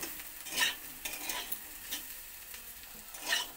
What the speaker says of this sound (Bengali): আরও 1-2 মিনিটের মতন ভেজে নেব একসঙ্গে